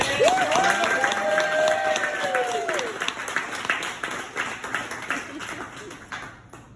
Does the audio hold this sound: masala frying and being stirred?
no